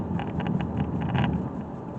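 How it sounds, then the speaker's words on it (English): Steady road noise inside a 2019 Toyota Yaris driving at speed after a front brake replacement, a continuous low rumble and hiss with faint rhythmic tire thumps, moderately quiet. "Just a bunch of road noise."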